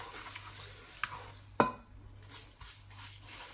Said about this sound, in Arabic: رح حمص هيدا الكوب الشعيرية بقلب الزيت يلي أنا قليت